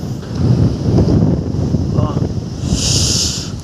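Steady wind buffets and roars across the microphone throughout, with a faint voice underneath and a brief hiss toward the end.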